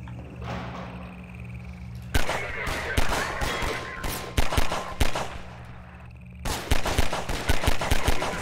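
Automated turret gunfire in Half-Life 2 comes in rapid loud bursts that start suddenly, stop, then resume in quick repeated rattles over a low mechanical hum.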